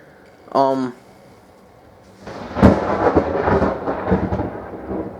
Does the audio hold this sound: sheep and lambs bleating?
no